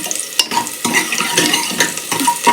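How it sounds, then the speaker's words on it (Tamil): Onions sautéing in a pan for sambar, loud and close: repeated spatula scrapes and stirs over a constant crackling sizzle, no voices. "வெங்காயம் நல்லா வதங்கிடுவேன்"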